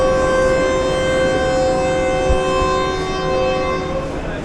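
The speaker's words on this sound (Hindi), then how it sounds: "ZCU20 की तरह हॉर्न इसका भी ख़राब हो चुका है, मतलब गला ख़राब है।" The hoarse, faulty horn of the locomotive hauling the 6dn Greenline Express blares loud and close in one long sustained blast.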